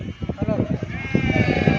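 Sheep and lambs bleat close by as a load is put onto a vehicle at a sheep and goat market in Gudur, short quavering calls mixed with people talking nearby.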